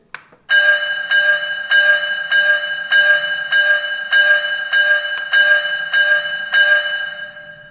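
Bell of a 1:32-scale Prussian T3 model steam locomotive rings about nine times at a steady pace, each clear metallic strike sustaining into the next, close and loud with no voices.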